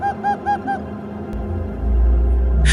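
Birds calling in a flock, used as a sound effect in a spoken ghost story as a creaky old wooden door opens, sound as several honking, goose-like cries in quick succession followed by a low rushing rumble.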